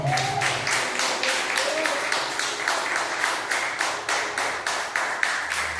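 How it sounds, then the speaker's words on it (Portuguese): A church congregation breaks into steady, rhythmic clapping, loud and close, a regular beat of hand claps running throughout with a voice briefly heard over it. "Só quem crê dá uma salva de palmas."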